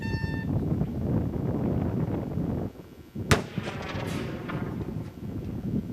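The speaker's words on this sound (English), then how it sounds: "this is a bigger explosion than what we did before in terms of how much high explosive is there" A large high-explosive charge detonates in a recorded demolition test, a single sharp, powerful blast followed by a brief rumbling decay, set against steady background noise.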